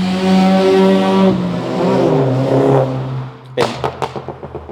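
A BMW engine drones loudly close by, its pitch rising and falling as it drives past, then fades into a few sharp pops and knocks.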